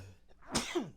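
A single short sneeze bursts out close and fairly quietly, a sharp breathy explosion lasting under half a second.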